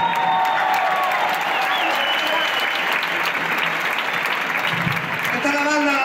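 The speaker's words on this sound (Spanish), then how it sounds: "también se merece un aplauso aquí con los músicos" An audience at a concert in a bullring applauds steadily and loudly for the whole stretch, with crowd noise and a few faint voices mixed into the dense clapping.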